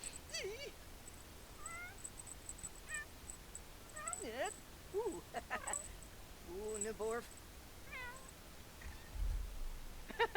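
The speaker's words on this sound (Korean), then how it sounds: "역시 고양이다." Cartoonish cat meows from a pet in The Sims 4 video game, several short rising and falling calls spread through the clip over faint game music, with a few chirpy bird-like game sounds mixed in.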